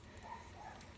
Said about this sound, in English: Sorry if you can hear that dog barking.